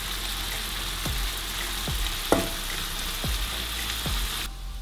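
Tomatoes fry in a pan with a constant soft sizzle, punctuated by a few faint clinks and stirring taps at intervals.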